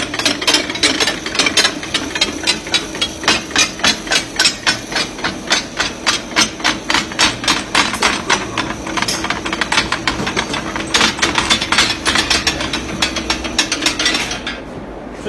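A forging machine repeatedly bashes a 20mm round steel bar, giving loud, fast, regular metallic blows that run steadily for about fourteen seconds and then stop abruptly, with mechanical whirring underneath.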